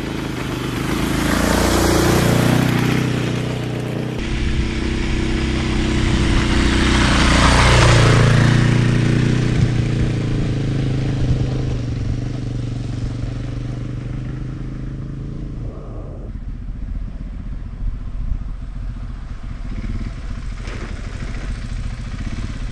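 A 2024 KTM EXC F 500 dual sport motorcycle engine running on gravel hill trails, a steady mid-pitched drone that swells and eases with throttle, with rattling clatter over the full stretch.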